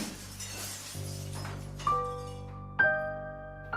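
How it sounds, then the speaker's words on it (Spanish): Glass cracks and breaks in two or three sharp, ringing bursts spread across a few seconds, each leaving a bright tinkling decay over a low steady hum, with no voices. "escuché el sonido del vidrio partiéndose"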